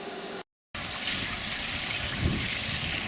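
A thin, low flow of water trickles at a homemade water wheel, a soft continuous wash interrupted briefly by a gap near the start, then steady with a faint bump later.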